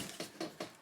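Basket weaving material squeaks three times as it is pulled tight while making a Blue Mountains basket, each short creaking rub evenly spaced and close.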